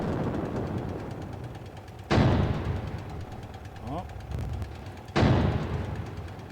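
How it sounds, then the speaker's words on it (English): Tank cannons fire in the video game Sprocket, with two loud, sharp blasts a few seconds apart, each trailing into a rumbling decay over a constant engine drone. "Oh, here comes the tanks. Alright, so we got to be careful because these tanks shoot a lot."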